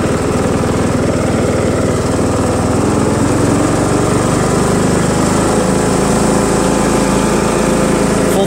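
John Deere L100 lawn tractor with a Briggs 1742 engine running at full throttle, a steady loud droning mower engine roar close by with no change in pitch throughout.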